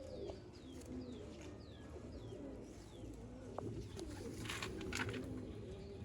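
Female Sialkoti pigeon cooing softly in a rooftop loft, repeated low coos with faint chirps and a steady background hum.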